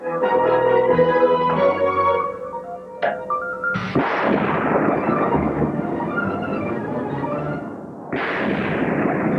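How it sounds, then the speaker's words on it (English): Tanks of the 2nd Armored Division fire during target practice on a range once used by Rommel, in miserable weather: two heavy booming blasts, each trailing into a long rumbling decay, after a stretch of lower mechanical droning. "Target practice on a range Rommel used in World War II."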